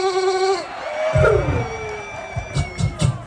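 A person imitates a goat's bleat during an animal-sound contest at a Lagos camp, giving one long wavering nasal cry before a crowd breaks into cheers and screams.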